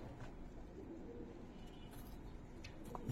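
Faint, distant pigeon cooing hums under a quiet ambient background, with a louder thump at the very end.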